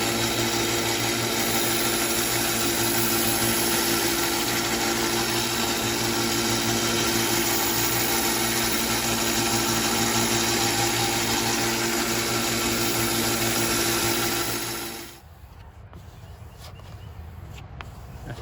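A 2,000 grit sanding belt sharpens a trail knife with a loud, steady whine and hum that stops abruptly near the end, leaving a few faint handling clicks.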